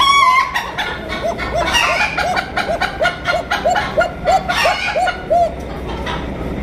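At a pigeon market, a chicken gives a rapid series of close, rhythmic clucks and calls, about a dozen in quick succession, over a busy background of other birds.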